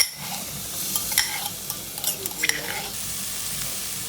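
Garlic-ginger paste frying in hot oil for chicken pulao in a home kitchen, a steady close sizzle with a few stirring scrapes and clinks, no talk.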